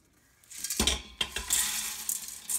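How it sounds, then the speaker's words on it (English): Dried pinto beans pour and rattle into an Instant Pot insert in a short rush of dense, bright clattering, with a brief pause and then a second pour. "We're going to put them in our Instant Pot here."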